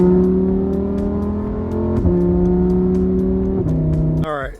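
Lamborghini Huracan driving in the foothills and turning around, a loud, steady engine drone that climbs in pitch as it accelerates, shifting gears twice, then a quick rising whir at the end.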